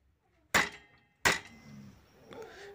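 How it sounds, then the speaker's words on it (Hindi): A hammer striking a bicycle gear to knock it into alignment, two sharp metallic blows about a second apart, close and loud, followed by a fainter clink. "हाथोड़ा अंदर से बाहर में ठोकना होगा।"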